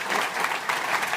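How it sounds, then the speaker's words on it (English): A conference audience applauds at the close of a talk on design and usability, with a dense, steady burst of clapping from a sizeable crowd filling the short moment. "So I want to give Jakob a big round of applause."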